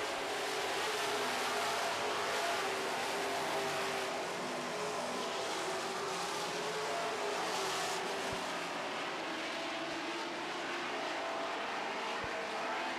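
Super stock race cars roar down the front straightaway of a racetrack during a feature race, a dense steady engine drone from several cars at once that swells and fades slightly with the pack.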